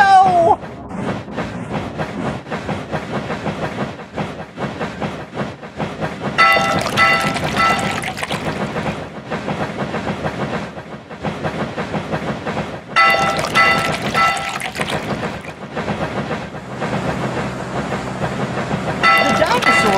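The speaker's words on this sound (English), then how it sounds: "The dinosaur train pulls ahead!" A rumbling dinosaur train races along in a Dinosaur Train video game, with a steady rolling rail clatter mixed with bright game music and effects and occasional voice-like sounds.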